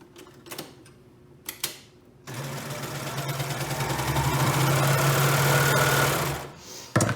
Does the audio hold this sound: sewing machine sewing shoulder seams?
yes